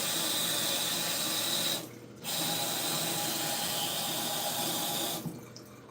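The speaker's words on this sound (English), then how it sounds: "I'm gonna rinse my hands off" Water runs steadily from a kitchen tap as hands are rinsed beneath it, a close, loud continuous rush that drops out briefly twice when the flow is interrupted.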